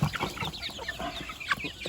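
Backyard farm chickens, a flock of young birds under three months old being fed, cluck close by in short, irregular bursts with occasional sharper calls.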